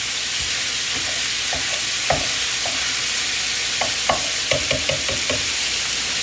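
Onions fry in olive oil with a constant hissing sizzle, broken by scattered clinks and scrapes of a utensil stirring the pan, close and clear with no talking.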